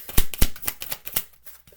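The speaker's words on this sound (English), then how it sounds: "I'm just gonna shuffle get all the cards before I start" A deck of tarot cards is shuffled by hand in several quick riffling bursts, close and crisp, fading into softer rustles toward the end.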